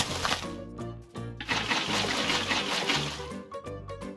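Water placed into a boat in a Minecraft-style build battle game, heard as a steady splashing, flowing rush with a few soft clicks, fairly close and without speech.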